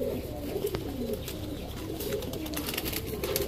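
Pigeons at a pigeon seller's loft, including a Dhakaiya Giribaz hen, coo in soft, low, repeating calls close by, over a steady background hum.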